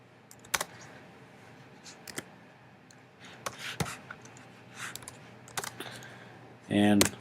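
Keystrokes on a computer keyboard while building a responsive HTML website in Dreamweaver, scattered close clicks and short bursts of typing, ending in a dense rapid run of keys.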